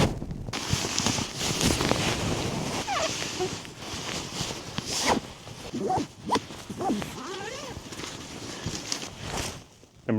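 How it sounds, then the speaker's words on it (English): A sleeping bag is crammed back into its stuff sack at a snowy winter campsite, with irregular rustling, swishing fabric and scraping bursts, close up, amid light wind and a few faint vocal sounds. "I'm going to get my blood pumping by putting this sleeping bag back in its case."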